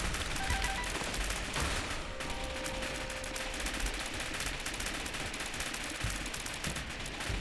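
Turrets firing in The Binding of Isaac Afterbirth+: a steady, unbroken stream of rapid machine-gun-like shots at constant loudness, with no speech.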